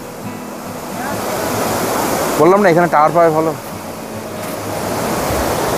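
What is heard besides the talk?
Lodh waterfall rushing water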